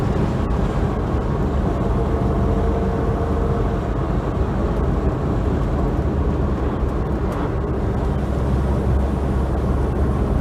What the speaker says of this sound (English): So there's a fair bit of wind noise, but this is barreling along very merrily.